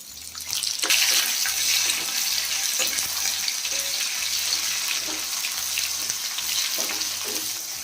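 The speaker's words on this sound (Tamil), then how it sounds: "2 வெங்காயம் கட் பண்ணி வச்சு வெங்காயம் போட்டுக்கணும்." Chopped onions for a masala fish curry sizzle and crackle steadily in hot oil, a loud, continuous close-up frying hiss with occasional stirring clatter and no talking.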